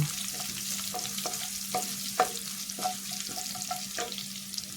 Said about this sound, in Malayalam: നമ്മുടെ സവാളയൊക്കെ ഏകദേശം നല്ലവണ്ണം ഒന്ന് വഴറ്റിയെടുക്കുക